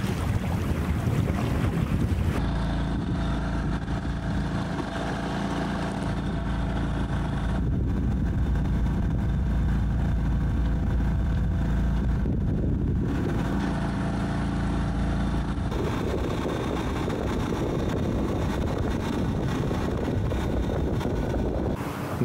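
A sailboat motors across a Finnish lake with its bow sail lowered, giving a steady engine drone under heavy wind buffeting and water rush, continuous and close, with no talk.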